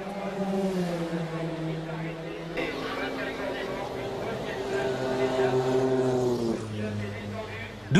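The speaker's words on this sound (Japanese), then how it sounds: "マシンはうなりを上げゆっくりとピットロードを後にした" A race car engine at Le Mans roars and hums with steady harmonic tones while pulling slowly away down the pit road, its pitch shifting as it goes, with a narrator's voice running over the sound.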